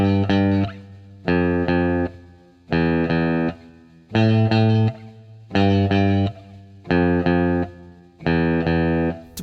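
Electric guitar with effects plays a simple melody on the top string, seven evenly spaced sustained notes with short pauses between, loud and close with no voices.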